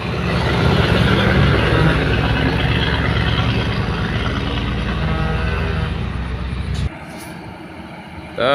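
A heavily loaded truck crawls up a steep incline with a loud, strained engine roar that holds steady and close, then cuts off abruptly near the end, leaving quieter background noise.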